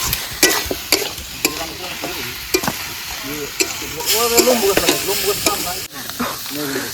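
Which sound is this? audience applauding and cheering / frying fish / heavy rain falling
frying fish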